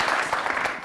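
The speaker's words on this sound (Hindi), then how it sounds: "मैं चाहता हूँ कि मेरी टीम के लिए आप लोग तालियां बजाइए" Brief clapping from a television morning show studio audience, a quick close burst of hands cheering a team.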